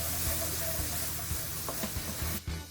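Garlic sizzles in hot oil in a pan, a steady bright hiss broken by occasional soft clicks and pops as it is stirred, close and even.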